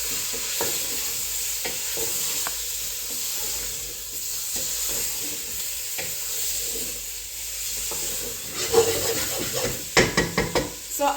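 Chicken stew sizzles in a pot, a steady broadband hiss from frying food, with scattered clinks and scrapes of stirring that grow louder and more frequent toward the end.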